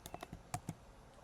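A computer keyboard clicks through a short burst of about six quick keystrokes while a word is typed into a Photoshop text box, close and quiet, with no voices.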